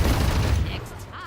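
Gunfire in the tactical shooter Valorant during a ranked match, a dense, loud burst of rapid shots over about a second that fades out with a brief metallic ring at the end.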